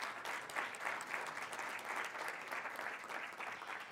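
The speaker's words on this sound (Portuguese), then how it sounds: "Uma salva de palmas para todos os intervenientes" Steady audience applause at an entrepreneurship and innovation award ceremony, a full and even wash of many hands clapping throughout, with no voices standing out.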